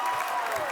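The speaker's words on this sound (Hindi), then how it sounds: "सिद्धू जी के लिए जोरदार तालियां।" A brief, dense burst of studio audience applause on a Hindi comedy talk show, a steady wash of clapping heard close with no gaps.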